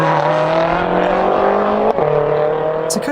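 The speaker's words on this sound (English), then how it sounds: "the LFA had the highest revving V10 of any production car." A Lexus LFA's high-revving V10 screams at a sustained, loud high pitch, its tone holding and then dropping sharply near the end before a brief sharp burst, with no voices present.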